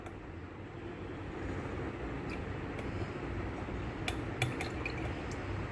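Tea with steeped leaves being poured through a strainer, a steady continuous liquid stream with faint splashing and a few light clinks of glass or metal, close and even throughout.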